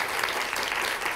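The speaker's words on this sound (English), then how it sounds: "Give Pat a huge round of applause." Studio audience applause at a live talk show, steady dense clapping filling the short stretch at an even level with no voices on top.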